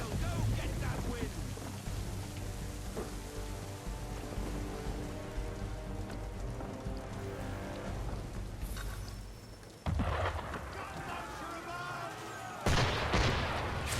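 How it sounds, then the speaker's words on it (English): Ship cannons fire in the Assassin's Creed III video game while a sailing vessel runs at full sail, a loud layered barrage with rumbling booms and sharp blasts amid wind and spray, ending in a sudden heavy impact. "Why is he shooting at us?"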